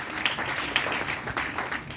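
Church congregation applauding during a French-language worship service, a soft, steady patter of clapping with a few sharper claps, fairly distant and continuous.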